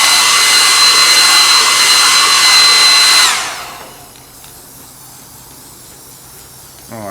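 A blow dryer blows a loud steady whirring rush over a rattle can tack coat on an older Jackson steel wheelbarrow, then switches off and winds down to quiet room tone.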